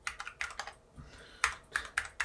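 Typing on a computer keyboard, close and clear: irregular bursts of key clicks in quick clusters with short pauses between, alone with no voices.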